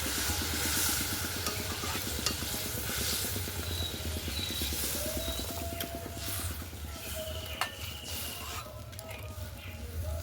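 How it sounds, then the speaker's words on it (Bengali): Water poured over fried spice paste in a pan for a rohu fish curry with brinjal, giving a loud, steady sizzle and bubbling hiss with faint clinks throughout. "বাকি জলটুকু দিয়ে দিলাম।"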